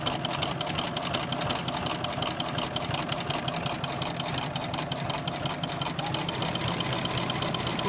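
A sewing machine fitted with an overlock presser foot stitches zigzag in a continuous, fast, rhythmic mechanical chatter, loud and close throughout with no pauses and no voices.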